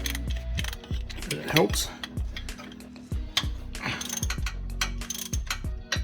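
A ratchet fitted with an extension loosens 14mm bolts on a 2006-2012 Mitsubishi ZH Outlander during a CV boot change, making a steady run of close clicking strokes over several seconds, with a brief line of speech partway through.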